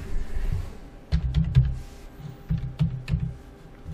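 Someone types a password on a computer keyboard, producing a close, irregular run of soft key taps in short bursts with brief pauses between them.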